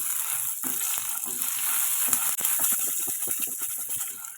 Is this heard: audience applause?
no